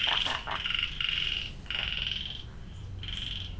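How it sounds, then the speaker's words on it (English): Frogs croaking near a guesthouse in Mae Hong Son, Thailand, in repeated bursts of high, raspy calls separated by brief gaps, fairly close and loud over a low background hum. "Got frogs over here, you can hear those."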